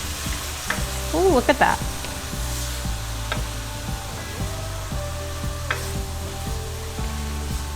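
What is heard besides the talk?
wine sizzling in a pan with spices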